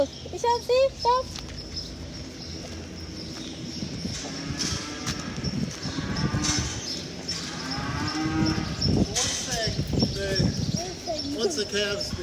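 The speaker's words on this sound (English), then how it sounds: "Ishan, see more cows." Cows on a dairy farm moo several times, some near and some farther off, with hoof clatter and birds in the background while people talk over the scene.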